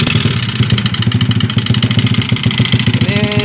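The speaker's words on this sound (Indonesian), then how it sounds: "mau cek dulu hidupkan motornya" A Yamaha Mio GT carbureted scooter engine fitted with a Vario 110 piston runs steadily at idle, with a deep, loud, rhythmic, slightly clattering pulse throughout and a brief rev near the end.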